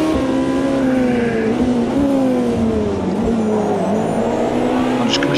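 Race car engine in the Automobilista 2 sim, a C class car, droning loud and steady with rising and falling revs through gear changes, with faint tire squeal.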